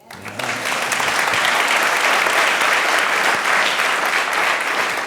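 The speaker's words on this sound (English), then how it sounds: "That deserves applause." A New Jersey audience at a political event breaks into applause, loud, sustained clapping that swells in quickly and carries steadily to the end without speech over it.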